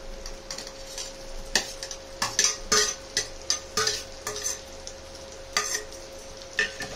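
Previously fried prawns tossed back into a pan and stirred, a soft background sizzle broken by irregular sharp clicks and scrapes of a utensil against the pan, no talking.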